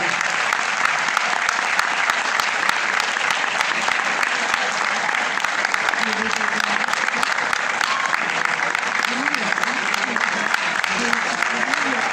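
A theatre audience applauds as the stage curtain opens at a folk music performance, a loud, continuous wall of clapping that persists throughout, with a voice faintly audible beneath it midway.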